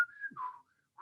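Whistled melody from a song: a clear, sustained whistled line that bends across a few notes, then pauses and resumes briefly, with no talk around it.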